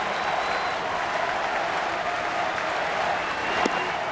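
A large crowd at a PNC Park baseball game applauds in a steady, dense roar of clapping that holds for the whole stretch, with a single sharp crack near the end.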